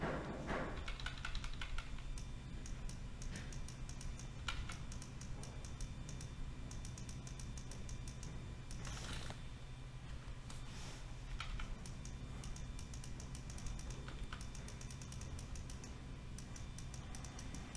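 Computer keyboard keys click faintly while someone edits in Photoshop. The soft, scattered taps and short bursts of typing sit over a steady low hum.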